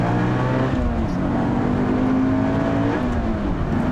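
A Subaru BRZ sports car, turbocharged or supercharged, roars steadily as it accelerates hard from an on-ramp, its pitch climbing in sustained harmonic bands over constant road and wind noise, loud and close.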